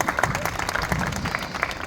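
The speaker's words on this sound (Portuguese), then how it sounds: "Uma salva de palmas para ele" At a rural mission event in northeastern Brazil, a small crowd applauds a volunteer actor with a short burst of clapping. The claps are moderately close and mixed with murmuring voices.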